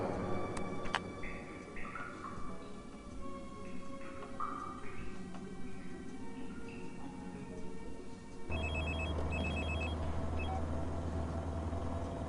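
Telephone ringing, heard as a repeating electronic ringtone in short high bursts that starts partway through, over a low rumbling engine-like background.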